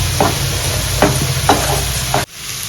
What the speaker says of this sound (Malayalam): ഇഞ്ചിയും നമ്മളെടുത്ത് ചതച്ച് വെച്ച് ജസ്റ്റ് ഒന്ന് ക്രഷ് ചെയ്തെടുത്തതാണ് ഇതുകൂടി ആഡ് ചെയ്ത് കൊടുക്കും ഇത് നന്നായിട്ട് വഴട്ടിയെടുക്കണം